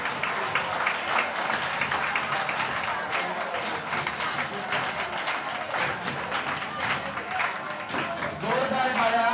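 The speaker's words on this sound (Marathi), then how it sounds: "जोरदार टाळ्या पालकांसाठी सुद्धा झाल्या पाहिजे" Audience applause at a talent hunt exam prize distribution, honoring a winner's parents: sustained crowd clapping, dense and even, with voices talking over it.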